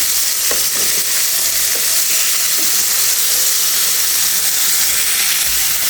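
Whole pona fish frying in hot oil in a pan after being flipped, giving a loud, steady hiss close by with a few soft stirring knocks and no talking.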